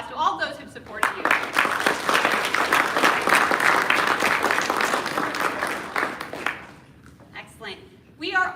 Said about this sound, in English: let's give a round of applause to all those who've supported you